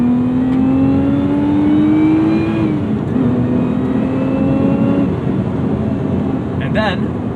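Lotus Emira engine revving during a manual double-clutch downshift, a steady engine drone rising in pitch then dropping and climbing again, heard in the car under continuous road noise.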